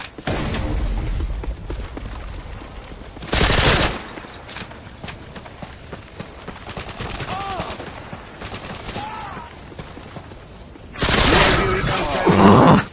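Video game gunfire crackles in short bursts, with the loudest volleys near the start and again toward the end, mixed with game sound effects and background noise.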